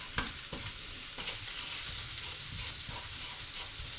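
Spices sizzle and crackle steadily in a frying pan already used for sausages, a close, continuous hiss with occasional stirring scrapes and small pops.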